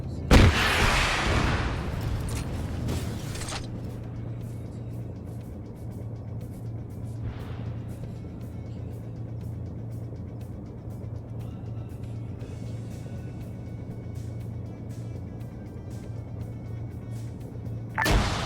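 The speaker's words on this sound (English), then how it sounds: "Hear that tank coming up." A tank moves up in a military video game, a low steady engine rumble that persists throughout, with a sharp boom at the start and another at the end.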